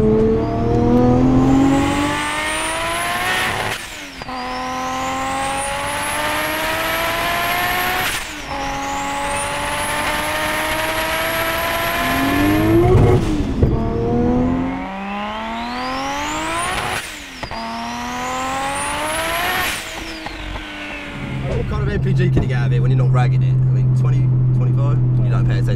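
A Nissan Skyline R33 GTS-t engine accelerates hard through repeated gears, each pull rising to a high whine before a shift drop, heard loudly from inside the car with occasional voices.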